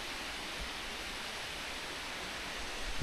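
A small waterfall in the Wyoming mountains gives a steady, even wash of rushing water, constant and unbroken, with no voices over it.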